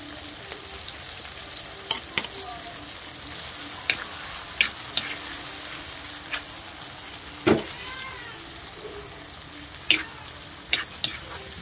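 Shrimp paste (bagoong) frying in a pan for a Filipino home-cooked dinner, giving a steady soft sizzle with several sharp stirring clinks and scrapes scattered throughout, close and moderately quiet, with no talking.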